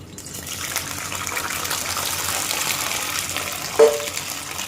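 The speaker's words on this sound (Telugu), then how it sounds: "ఆయిల్ కూడా వేడెక్కింది. సో ఈ దొండకాయని మనం ఇందులో వేసేసుకుందాం." Ivy gourd pieces sizzle in hot oil in a kadai, a steady hissing frying sound close by with a brief clink of a utensil near the end.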